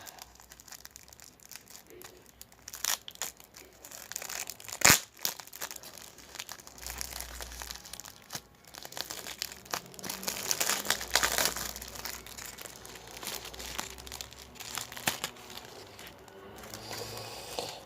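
Paper crinkles and tears as a mail envelope is opened by hand, a steady run of soft crackling rustles with a few sharper rips, close and fairly quiet, with no talk.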